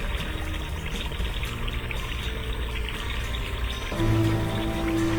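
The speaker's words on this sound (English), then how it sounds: "Below, the water finally flows under the bridge as it should." Water flows steadily under a tiny bridge, a continuous close pouring and trickling wash that grows a little fuller near the end.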